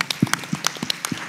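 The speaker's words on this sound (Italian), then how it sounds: "Bello, un applauso." A short burst of scattered clapping from a small group, uneven and lively, lasting just over a second.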